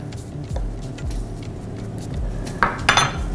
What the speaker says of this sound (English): do use the back of your spoon to even it out